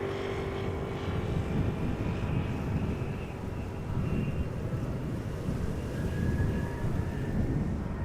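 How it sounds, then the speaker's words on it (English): A 13-year-old Boeing 777 freighter takes off at Amsterdam Schiphol, a steady, fairly faint rumble heard from a distance and mixed with wind buffeting the microphone throughout. "777 freighter on its way to China."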